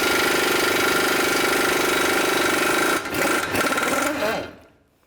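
Steady mechanical whirring and grinding as a bolt is backed out of the lower control arm keyway on a 2000–06 GMC Yukon, loud and continuous for three seconds, then choppier bursts before fading out.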